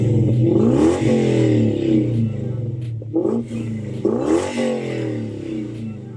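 A stock Lexus LS430 with its 3UZ-FE V8 revs through the exhaust, several quick throttle blips climbing and dropping over a deep idle, loud and nearby, with no voices.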